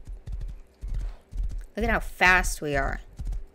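Horse hooves clip-clop at a rapid gallop in the survival game Rust, a steady run of near, punchy beats under a person talking excitedly.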